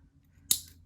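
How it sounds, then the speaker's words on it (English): Scissors make a single quiet crisp snip while cutting yarn for a crochet sunflower crop top, isolated in near silence. "Cut your yarn."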